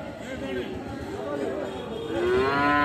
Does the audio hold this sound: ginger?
no